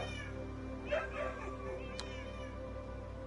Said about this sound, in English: all types of cats are in here, I think.